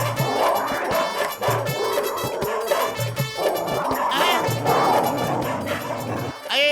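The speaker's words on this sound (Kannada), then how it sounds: "ಇದೇನೋ ನಾಯಿಗಳೆಲ್ಲ ಹಿಂಗ್ ಓಡ್ಕೊಂಡ್ ಬರ್ತಾ ಇದಾವೆ" Several cartoon dogs bark and yip as they run in, the excited barks overlapping in bursts over busy background music in an animated episode.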